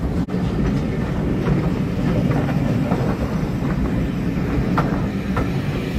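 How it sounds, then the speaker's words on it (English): Steam train on the North Yorkshire Moors Railway from Whitby heading to Pickering rumbles along steadily with faint rhythmic wheel clicks, a continuous close rolling noise with no talking. "Last train from Whitby, it's on its way."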